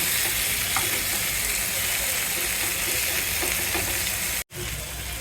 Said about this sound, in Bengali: এটাকে একটু আস্তে জালে ভাজতে হবে তা না হলে পুড়ে যাবে এক সাইড আর কম তেলে ভাজলে এটা পুরা একটা ঘ্রান আসবে